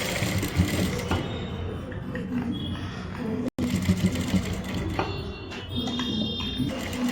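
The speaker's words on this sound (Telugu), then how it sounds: "ఒకవేళ మిషన్ కుట్టు కావాలంటే మీ ఇష్టం, మిషన్ కుట్టు వేసుకోండి" A sewing machine stitches a blouse with a continuous, loud mechanical whir and rattle, broken by a brief stop midway before running steadily again.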